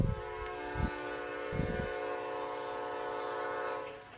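Loud sustained train horn from a Metra commuter train in a Roblox railroad simulation, sounding at a crossing as a rich chord of steady tones over low rumbling, fading out near the end.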